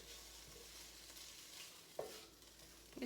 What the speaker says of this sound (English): You just hear it kind of sizzling a little bit.